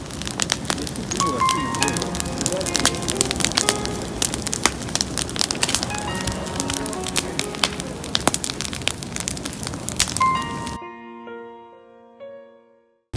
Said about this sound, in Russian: Куда пошёл огонь?